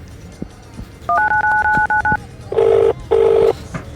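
Placing a phone call: a short string of telephone keypad tones, then a steady tone and two loud, even ringback bursts, close and clear.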